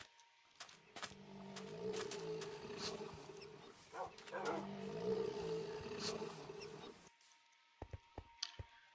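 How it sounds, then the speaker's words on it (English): Low, rumbling growl from a creature in the Minecraft Hexxit modpack, running steadily for about seven seconds with rising and falling surges, then cutting off before a few sharp clicks. "Still not quite sure I like that growling"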